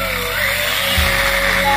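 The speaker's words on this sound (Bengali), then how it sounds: "নতুন গ্রাইন্ডিং মেশিন দিয়ে" New electric grinding machine cutting a groove into a wall for electrical wiring, a loud continuous high-pitched whine and grinding roar up close with no break across the short stretch.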